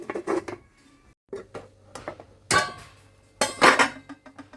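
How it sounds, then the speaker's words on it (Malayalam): A lid goes onto a pan of prawn and mango curry with several metallic clanks and clinks. The impacts come in irregular bursts, two of them louder, over a low steady hum. "ഇനി നമുക്കിതൊന്ന് അടച്ചു വെക്കാം"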